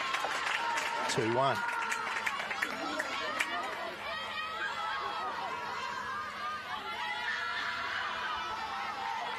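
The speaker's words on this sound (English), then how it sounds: "Lots of cheering still coming from both sides" Crowd cheering and chatter at a women's baseball game, with whistles and lively voices from the stands throughout and a commentator briefly speaking over it.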